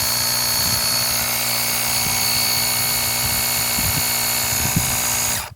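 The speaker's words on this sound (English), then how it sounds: "this does have a 150 psi air compressor in it" Built-in 150 psi air compressor of a LENERCOM 4-in-1 jump starter running, a loud, steady buzzing drone with a faint rhythmic pulsing, close by and continuous throughout.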